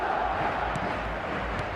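Stadium crowd in the football video game eFootball, a steady broad roar of massed voices at moderate volume with no clear peaks.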